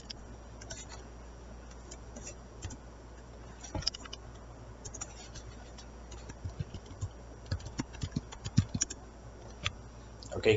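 Computer keyboard typing a command, heard as irregular light key clicks and taps that grow denser and louder toward the end, alone over a quiet background.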